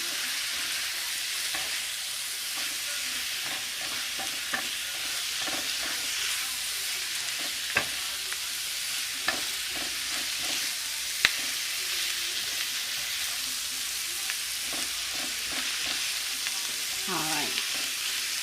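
Cabbage sizzles and fries steadily in a pan, a continuous close hiss with occasional stirring scrapes and a few sharp clicks, with no talking.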